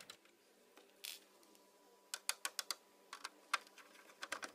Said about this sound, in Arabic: وراح نفتح اللي هو براغي البلس